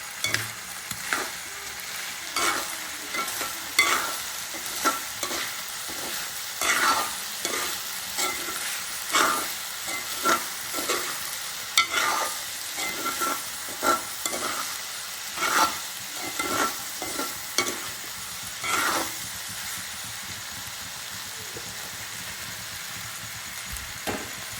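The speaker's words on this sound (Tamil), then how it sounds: "கொஞ்ச நேரம் வதங்கட்டு மூடி நாங்கள் வதங்க விட போகிறோம்" Conch curry ingredients sautéing in a pan, a constant near sizzle with frequent rhythmic clinks and scrapes of a stirring spoon throughout, no voices.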